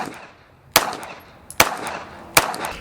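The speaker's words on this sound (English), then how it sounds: "this is literally first shots, y'all, with a Glock right after shooting the 2011" Three sharp Glock 17 Gen 6 pistol shots ring out at a shooting range, spaced unevenly about three-quarters of a second apart, each loud crack trailing off in a brief echo.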